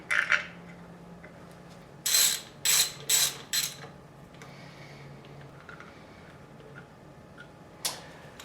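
A ratchet wrench clicks in short bursts as bolts on the rear engine cover of a Honda CX500 motorcycle are torqued down, several quick close ratcheting runs separated by pauses in a quiet workshop.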